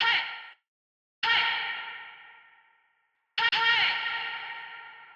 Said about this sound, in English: And we could change the reverb here.